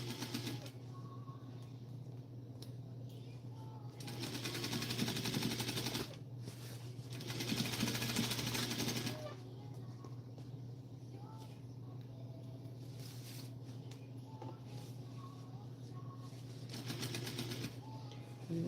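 Sewing machine stitching a Vogue 1737 garment, running in two longer whirring bursts over a steady low background hum, with quieter pauses between runs.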